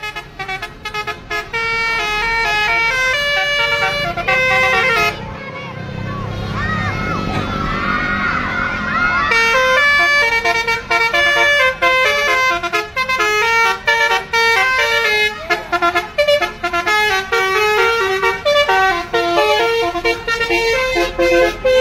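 A tourist bus passes on a road, its loud melodic multi-tone musical horn playing continuously throughout, with traffic noise and a crowd underneath.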